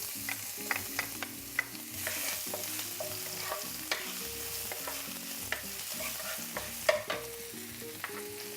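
Five or six garlic cloves fry in about a tablespoon and a half of oil in a pan, a steady close sizzle with repeated sharp clicks and scrapes of stirring, no talking.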